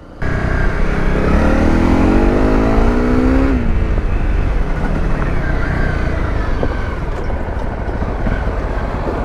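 Honda CRF250 Rally and NC700 motorcycles ridden off-road on off-road tyres, loud engines revving up through rising pitch then dropping into a rough steady drone, close by.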